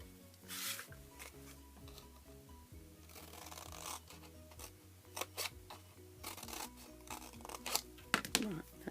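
Scissors snip and rub along a cardboard box's score line while making a flip top box for three Easter eggs, a close series of short scratchy cuts and crinkles, with brief low talk underneath.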